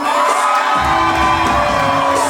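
Wedding guests cheer, whoop and shout together in a loud, continuous roar of crowd noise that swells right from the start and holds throughout.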